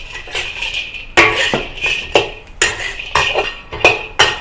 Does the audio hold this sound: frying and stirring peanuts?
yes